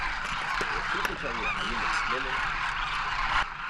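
Wild birds at a desert feeding dune in western Rajasthan where millet grain is laid out, calling in a busy cluster of honking, chattering cries over a steady outdoor hiss, close and fairly loud.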